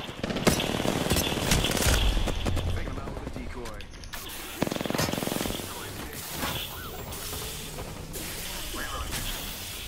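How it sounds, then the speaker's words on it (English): Gunfire in the battle royale shooter Apex Legends comes in bursts of rapid shots with impacts and whooshes, loud and close for the first few seconds and then more scattered, while a player talks over it. "Listen up, I'm getting shot at."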